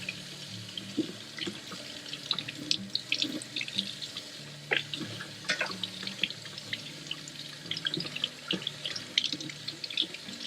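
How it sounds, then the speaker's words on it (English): Warm tap water runs steadily into a sink while sandy fishing gear is rinsed and its mechanisms worked, with irregular splashes, drips and small clatters over a continuous close-up flow. "literally just rinsing it for a couple minutes, moving all the mechanisms, getting all sand out."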